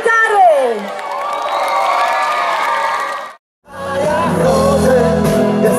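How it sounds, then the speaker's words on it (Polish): A large outdoor festival crowd at a town-days concert roars with loud cheering, whistles and applause for a band about to play, sustained and close; after a brief cut the band's music starts up. "Gromkie brawa, okrzyki, oklaski, wielkie emocje przed państwem zespół"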